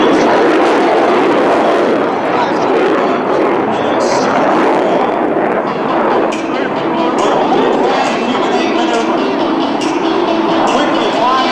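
An F/A-18 Hornet jet powering up at the 2012 Virginia Beach air show, a loud, steady broadband engine roar that holds for over ten seconds, with no voices in the clip.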